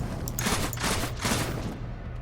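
Gunfire from a character gliding mid-air in the video game Warframe, a few quick bursts of shots close up with a steady hiss between them.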